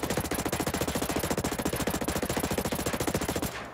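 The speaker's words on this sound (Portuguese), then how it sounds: "Primeiramente com a 4AC, vou atirar continuamente deste ponto aqui" A 4AC assault rifle in Ghost Recon Breakpoint fires full-auto in one unbroken stream of rapid, evenly spaced shots, loud and close, ending abruptly after about three and a half seconds.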